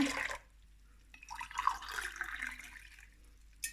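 Water poured into a pot for making grape molasses pestil, a soft splashing trickle with short gaps, quiet and close, no voices.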